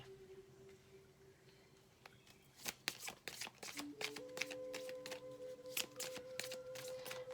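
Tarot cards shuffled by hand and laid out on a surface: soft rustling at first, then a run of crisp, rapid card riffles and snaps close by, with a faint steady tone underneath.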